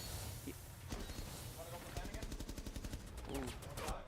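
Rapid gunfire bursts crackle through a Rainbow Six Siege match between Marshalltown and Waterloo East, dense repeated shots running steadily under a commentator's voice.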